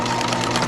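A sewing machine stitches vertical darts on a gown with a straight stitch, a brief, close, steady mechanical hum with nothing else over it.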